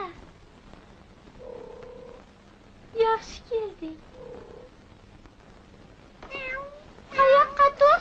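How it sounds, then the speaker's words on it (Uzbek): A kitten gives several short, high meows spread across the span, close and fairly loud, with quiet pauses between them and a voice speaking briefly. "Mushukcha."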